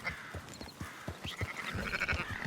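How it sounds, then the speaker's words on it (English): Sheep in the video game Red Dead Redemption 2 bleat repeatedly, several overlapping calls close by over a soft outdoor background, with no talk. "Marston, why don't you leave the sheep to me?"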